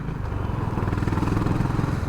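A Honda CB350 RS motorcycle revs its engine at high RPM, its exhaust giving a loud, continuous throbbing drone with a fast, even pulse close to the listener, running the whole time without a break.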